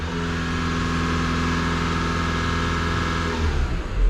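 A car engine is held steady at 2,000 to 3,000 RPM during an alternator charging test with a diagnostic scan tool, a loud, even drone close by that drops off as the throttle is released near the end.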